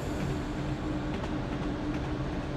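A Class 172 train on the North London and Goblin lines runs steadily, giving a continuous, even rumble and rail noise throughout, close and fairly loud, with no talk.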